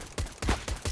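Rapid gunfire from a CS:GO match at an epic.LAN tournament: four sharp, loud shots in quick succession within a second, with no talk over them.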